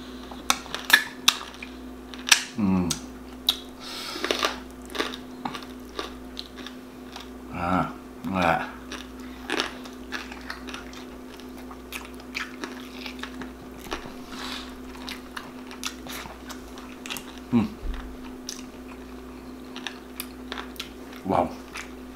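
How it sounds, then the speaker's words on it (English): Someone bites into and chews crunchy fried pork belly at close range, with sharp crackling crunches scattered irregularly over a steady hum, alongside quiet mouth sounds and occasional utensil clicks. "The crunch, something about the crunch."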